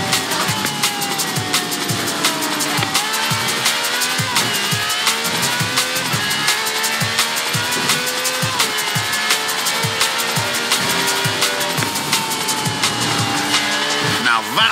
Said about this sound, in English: No clattery diesel engine here. This has a V12 with over 700...